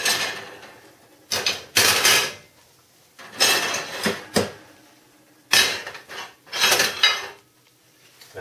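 Steaks are moved onto warm plates taken from a heated oven. Heavy plates clatter and clink in several separate bursts, with quiet pauses between the handling sounds.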